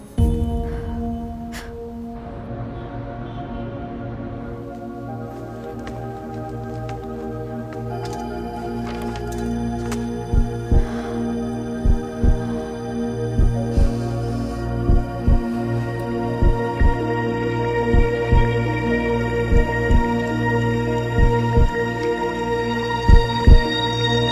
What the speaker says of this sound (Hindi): हम दोनों के दिल की धड़कनें एक कैसे है?